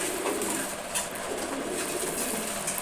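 Pigeons cooing at feeding time, a steady murmuring chorus of many birds close by with light scattered scratches and pecks, no voices.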